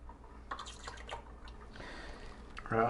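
Home-brew wort is poured to aerate it, giving quiet irregular drips and splashes that become a fuller gush of liquid near the end.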